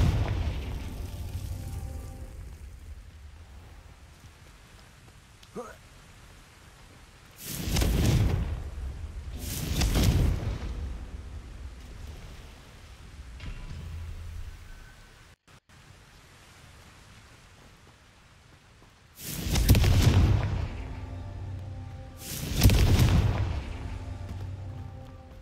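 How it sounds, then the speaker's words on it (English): Confringo fire spell explosions in the video game Hogwarts Legacy, four booming blasts in two pairs, each a loud broad burst with a brief rumbling tail over low background ambience. "Confringo."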